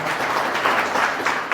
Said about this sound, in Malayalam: തീർച്ചയായും നല്ലൊരു കയ്യടി കൊടുത്ത് നമുക്ക് അദ്ദേഹം